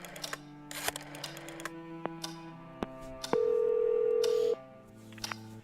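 A telephone in the horror game Scratches being dialed: a handful of separate key beeps, then one steady held tone lasting about a second, heard up close with no talk.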